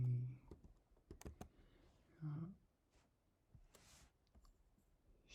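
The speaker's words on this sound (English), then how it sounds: "Okay, and then I'm going to set a password. Let's try to type that again." Fingers tap out a password on a computer keyboard while setting up Kodi, a few soft scattered keystrokes and clicks at close range, very quiet, with faint breathy murmuring between them.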